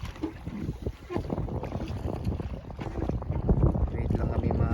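A boat out at sea off Boracay, with steady broadband wind rushing and buffeting against the microphone and a constant engine or water rumble underneath throughout.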